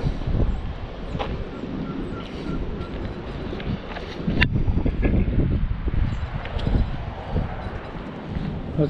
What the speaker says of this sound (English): Super windy today, but super warm.